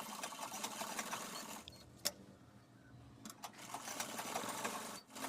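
Electric sewing machine stitching a half pant, running in steady bursts with short pauses between them, close by and fairly quiet with no talk.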